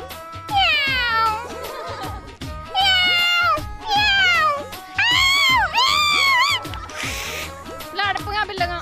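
A person imitates a cat at a college fun event, giving a series of loud, drawn-out rising and falling meows and yowls like cats fighting, in close succession with short pauses between.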